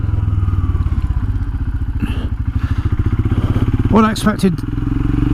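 Royal Enfield Himalayan motorcycle idling and riding on countryside trails, a steady low engine thrum running throughout with a voice talking over it and a brief rattle near the end.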